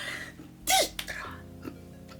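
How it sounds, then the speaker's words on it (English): A single person sneezes once, close and fairly loud, with a sharp burst and a brief catch of breath afterward, in an otherwise quiet room. "I'm going to sneeze"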